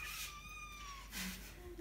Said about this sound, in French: Si vous avez un chaton qui miaule